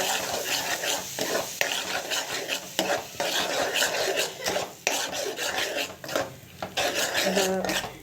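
Onions, with ground tomato, sauté in a pan for a kara kuzhambu, heard as continuous scraping and stirring of a utensil against the pan over a soft sizzle, close and fairly loud with brief pauses.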